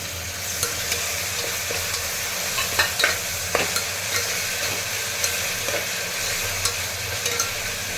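Ginger garlic paste sautés in a pan with a steady, close sizzle, broken by occasional scrapes and taps of a stirring spoon.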